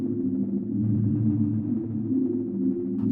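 A Strymon NightSky reverb pedal produces a low, sustained ambient drone with slow modulation, a dense hum of stacked tones that swells gently and holds steady for a few seconds.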